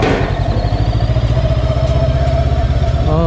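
A Gaokin Storr 500 motorcycle idles in first gear around 1800 rpm, its engine a steady, close, low pulsing throb with light mechanical clatter and no talk.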